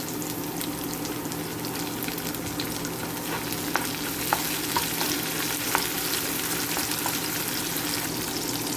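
Garlic, red onion and tomato sauté in a pan with a steady, close frying hiss, broken by light stirring clicks and small ticks.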